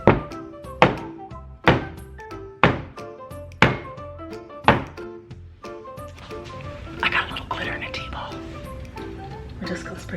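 A soap mold filled with soap is banged down on a surface in a series of hard, evenly spaced thuds, about seven in a row, followed by softer rustling and handling noises.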